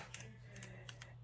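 Scissors snip through foam tape in a few quick, light cuts close by, faint against a low steady hum.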